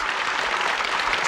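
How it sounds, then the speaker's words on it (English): Studio audience applause on a television game show, a dense, steady wash of clapping filling the whole moment with no voices on top. "Tumultuous applause greeted that revelation."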